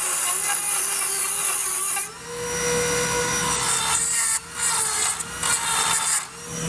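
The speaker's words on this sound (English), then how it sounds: "Since I have my Dremel tool here, I'm just going to go ahead and cut it off." A Dremel rotary tool cuts off a part during a Curt trailer hitch install on a 2015 Chevrolet City Express, giving a steady high-pitched whine with gritty grinding and a few brief pauses.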